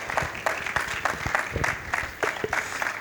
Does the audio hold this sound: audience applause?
yes